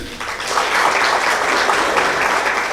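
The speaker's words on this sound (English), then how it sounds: "Another round of applause." Audience applause after a speech at a corporate social responsibility event, a dense, steady round of clapping from a crowd lasting a few seconds, close and full.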